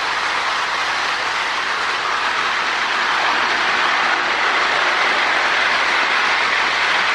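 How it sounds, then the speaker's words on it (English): A Marx E7 toy train with power pull motors runs steadily on its track, giving a continuous, loud, close whirring rumble with a faint rail clatter that holds without pause throughout. "these the power pull motors are really smooth running motor, good pulling motor"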